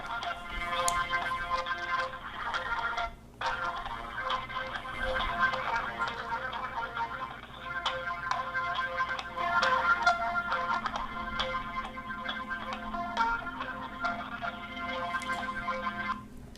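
Tinny hold music plays over a Verizon phone line on a Droid X phone, with a continuous melodic tune coming thin and compressed through the handset speaker for the whole stretch.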